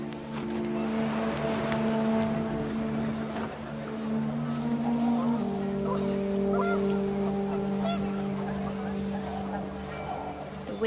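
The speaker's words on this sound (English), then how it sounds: "The wind picked up, and panicked geese appeared and quickly went." Geese honk and cry in panic inside the video game What Remains of Edith Finch, over a low, steady horn-like drone and wind, loud and sustained, with a voice talking over it.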